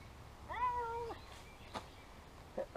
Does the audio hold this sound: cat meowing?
yes